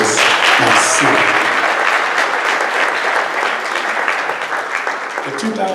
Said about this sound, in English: I think they should have a round of applause for this nice scene